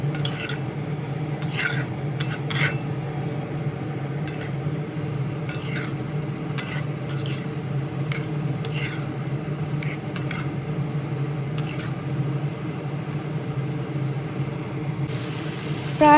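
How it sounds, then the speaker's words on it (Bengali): A spoon stirs prawn curry with data stalks in a pan over low to medium flame, giving intermittent close scrapes and clinks over a steady low cooking hum for the whole stretch. "ভালোভাবে নেড়ে চেড়ে আরও মিনিট 2 সময় ধরে লো টু মিডিয়াম ফ্লেমে কষিয়ে নেব"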